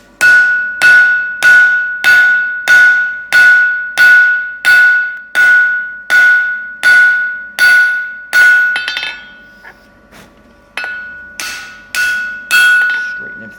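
Forging wolf jaw tongs from hot steel with a set tool: a rapid regular series of ringing hammer blows, loud and close, then a brief pause before a few more spaced strikes.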